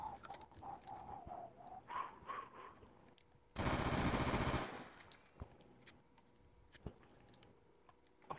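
A burst of rapid automatic gunfire in a shooter video game, about a second of loud dense rattling, surrounded by quieter in-game electronic tones and sparse clicks.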